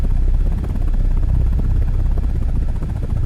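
An attack helicopter in a flight game, its rotor throbbing steadily and loudly with a low pulsing drone throughout, no voices.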